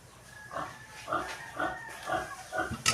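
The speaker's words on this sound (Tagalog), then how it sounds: "Magpapakain po siya ng baboy." Several short grunting pig calls from a piggery come one after another at moderate loudness, with a faint steady hum underneath and no talking.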